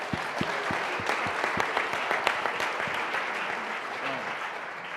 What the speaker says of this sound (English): Clap it up for them, everybody.